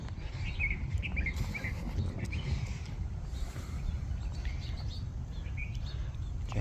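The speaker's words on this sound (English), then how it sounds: "Bird." Bird chirps and calls ring out faintly and intermittently over steady low outdoor rumble on a walk through Honolulu.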